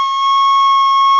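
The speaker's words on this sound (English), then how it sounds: "you might be making a lot of squeaking sounds." A recorder with finger holes not fully covered gives a single sustained shrill squeak, loud and steady for about a second with no voice over it.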